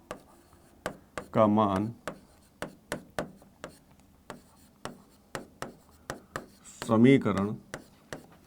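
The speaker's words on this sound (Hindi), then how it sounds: "यहां पे लिखते हैं y" Chalk or pen tapping and scratching on a board during a Class 10 maths lesson on linear equations, a steady series of short sharp strokes between two brief stretches of a teacher's speech.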